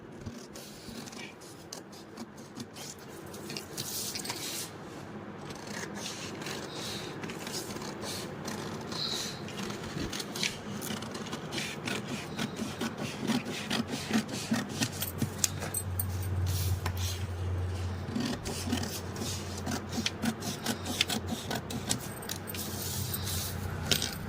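Blouse fabric for a katori blouse is cut with scissors, making a continuous run of close, crisp snipping and scraping noises that grows slightly busier over time, with no talk.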